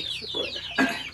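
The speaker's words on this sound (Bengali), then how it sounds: "তো দেখেন এখানে কত মুরগি।" Desi chickens on a Bangladeshi poultry farm cluck and squawk close by, several short bursts coming in quick, uneven succession with no talk.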